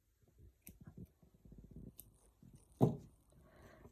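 Scissors snip overlocker thread on a Janome 6234 XL, one sharp close cut standing out among soft handling noises and small clicks.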